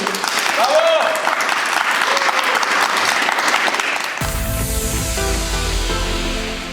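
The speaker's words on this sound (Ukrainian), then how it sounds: "Ваші оплески!" Loud crowd applause fills the first four seconds, then gives way abruptly to accordion music playing on.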